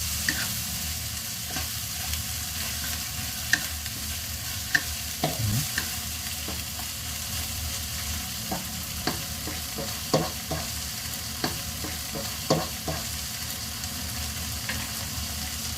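Sautéed food with shrimp paste sizzles in a pan while a utensil stirs and scrapes in irregular knocks and clinks, close and steady throughout with no voices.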